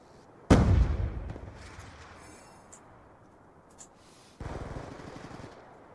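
Gunfire in a sniping video game: a loud sharp shot near the start with a long decaying boom, then a quieter stretch and a second rumbling burst of fire toward the end.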